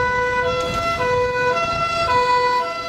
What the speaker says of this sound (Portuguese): Primeiro chegou a ambulância e, na sequência, o caminhão de combate a incêndios.